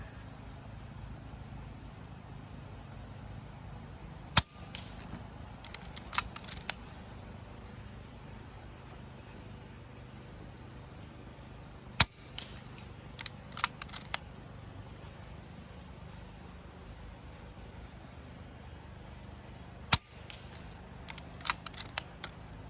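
Umarex Notos air rifle firing at targets out to 30 and 50 yards, three sharp isolated cracks spaced several seconds apart over a steady outdoor hum, each shot followed by faint metallic pings.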